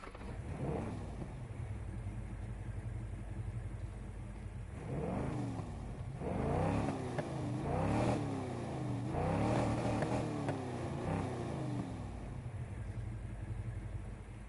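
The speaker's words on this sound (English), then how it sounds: "Forgot to say that before I started revving." A step-side pickup truck fitted with giant exhaust pipes revs its engine in Need for Speed Heat, with a string of loud, rising and falling throttle blips clustered close together over a steady idle rumble.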